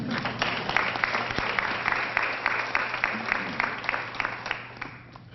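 An audience at the COTA CMAX rapid bus transit line ribbon cutting applauds, a steady patter of many hands clapping that slowly tapers toward the end.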